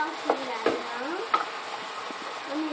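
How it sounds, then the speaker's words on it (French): Ground meat for lasagna cooking in a pan, a soft continuous sizzle with a few distinct scrapes of a utensil stirring it, close and moderately loud. "On fait bien cuire la viande."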